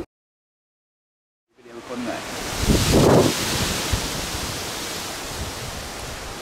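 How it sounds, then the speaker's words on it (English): After a second of silence, strong wind buffets the microphone in a loud, rumbling roar that swells and then settles into a steady rush. "It is very, very windy today."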